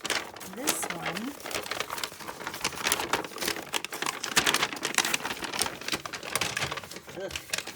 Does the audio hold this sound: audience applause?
no